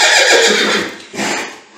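A mare with a young foal gives a loud, close whinny that breaks into two shrill, quavering bursts, with no other sounds around it.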